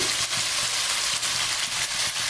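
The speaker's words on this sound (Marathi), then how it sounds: "आता मी यामध्ये परतून घेणार आहे" Boiled cluster beans (gavar) sautéing in a pan of hot oil, a continuous close crackling sizzle broken by a few soft, rhythmic stirring scrapes.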